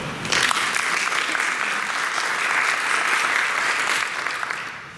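Sustained applause from attendees at a school board of education meeting after a vote, steady dense clapping that swells quickly and fades near the end.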